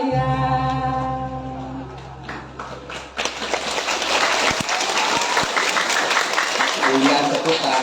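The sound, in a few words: audience applause at drama performance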